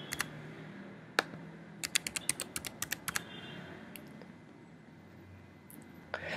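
A password typed on a computer keyboard, a quiet run of distinct key clicks in uneven bursts, close and alone, with a few more taps near the end.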